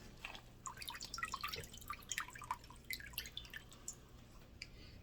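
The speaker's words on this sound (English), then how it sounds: "now I'm going to squeeze as much of this liquid I can out" Fire cider liquid wrung from a muslin cloth drips and trickles in a quiet, faint patter of small irregular droplets with no talking.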